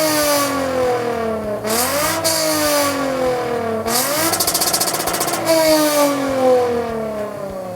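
Lexus IS250 engine with touch-button start, revving repeatedly in loud rising and falling sweeps, close and alone, each rev climbing sharply before dropping back to idle.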